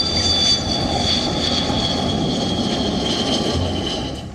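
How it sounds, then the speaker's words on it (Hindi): A twin-engine MiG-29 jet fighter roars in a steady, loud, continuous wash of engine noise with a high whine riding on top, fading slightly at the end. "और ये है MiG-29"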